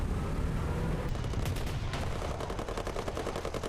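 Gunfire from a Vickers Mk.E Type B tank in the War Thunder video game, heard as a few dull shots over a dense, constant roar of engine and battle noise.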